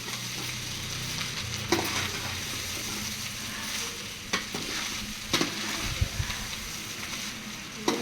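Egg and rice being stirred together in a frying pan, a continuous sizzle broken by scraping and knocking spatula strokes, moderately quiet with no talk.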